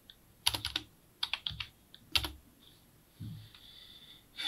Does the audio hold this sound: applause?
no